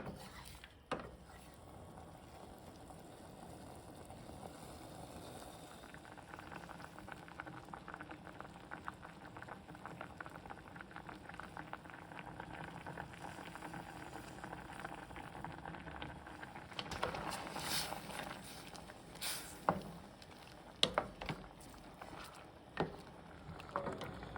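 Pineapple honey habanero jam, juicy with lots of pineapple liquid, simmers and bubbles in a pot, a steady soft boiling hiss with scattered pops and spatters growing louder toward the end.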